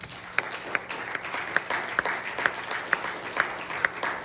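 A French-speaking church congregation in Lexington, Kentucky applauds during a Sunday service, a full room clapping together in a steady, rhythmic beat with sharp accented claps roughly every half second.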